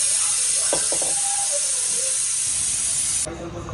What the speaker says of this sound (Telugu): కుక్కర్ పెట్టేసుకొని ఇప్పుడు విజిల్ కొట్టించేసుకుందాం.